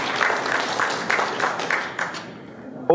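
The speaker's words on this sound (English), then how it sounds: "Let's give them a clap." Audience at a First Community Bank and Postbank Kenya partnership event clapping for a team: a dense, lively round of applause with distinct sharp bursts that thins out and fades near the end.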